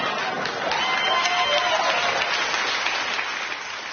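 Audience applause at a Bill Maher talk, a dense steady wash of clapping from a large crowd that holds evenly throughout and eases slightly toward the end.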